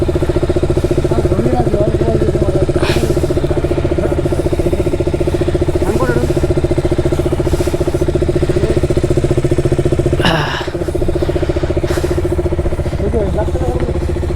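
A motorcycle engine idles while warming up before a hill ride out of Darjeeling toward Sikkim, a loud steady close rumble running throughout, with a voice speaking briefly over it.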